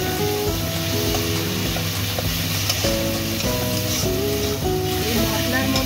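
Spice paste frying in a pan for a Bengali fish curry gives a steady, loud sizzle while it is stirred. Tonal music-like tones play throughout, and there may be some faint talk.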